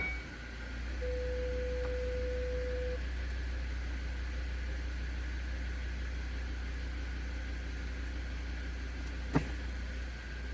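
A 2025 Volvo V60 5-cylinder engine idles during a transmission fluid change while the gears are cycled, giving a faint, steady low hum with a brief sharp click near the end.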